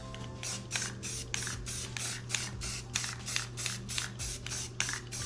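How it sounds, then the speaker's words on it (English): A spray paint can sprays in quick repeated hissing bursts onto an artwork, steady and close, over a constant low electrical hum. "Spray against your divider to make sure it covers everything."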